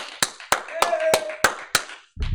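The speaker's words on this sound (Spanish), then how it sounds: "Vamos a dar un fuerte aplauso. Fuerte aplauso aquí en el estudio" In a church studio setting, about six loud, separate hand claps land in an even rhythm to honour newly baptized members, with a sustained tone and faint voices behind, then a brief pause and low rumble at the end.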